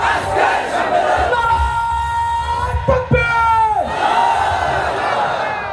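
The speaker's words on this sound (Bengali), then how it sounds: "নারায়ে তাকবীর আল্লাহু আকবারের এই স্লোগান" A large crowd at a religious rally chants a takbir slogan in unison, with loud, sustained massed voices and rising and falling shouts that drop briefly near the middle before the chant swells again.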